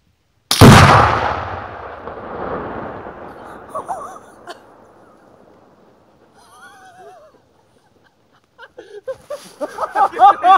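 Tannerite explosive target detonating after a rifle shot, one loud close blast with a long decaying rumble, followed by quieter sounds and excited voices talking near the end.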